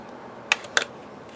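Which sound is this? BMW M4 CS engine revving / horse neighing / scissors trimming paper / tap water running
scissors trimming paper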